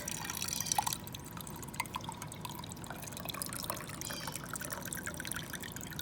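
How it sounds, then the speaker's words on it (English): Cold brew tea is poured into a glass over ice, a soft continuous trickle with faint clinks and small splashes, quiet and close. "So I'm just going to pour that into my glass with some ice."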